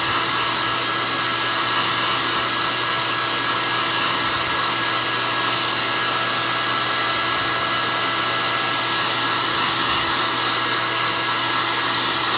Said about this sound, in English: This air gun gets pretty darn hot.